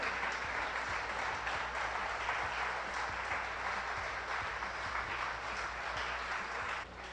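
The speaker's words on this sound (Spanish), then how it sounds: "Alguien puede ponerse de pie y darle un aplauso de pie en esta hora." Church congregation on its feet for a standing ovation, sustained dense clapping at steady volume for several seconds with faint cheering mixed in, fading slightly at the end.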